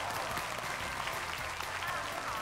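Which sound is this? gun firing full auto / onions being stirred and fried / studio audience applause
studio audience applause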